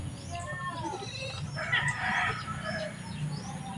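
Chickens clucking in a farmyard, a steady low murmur of fowl calls with a brief louder burst midway, heard over a dense outdoor background.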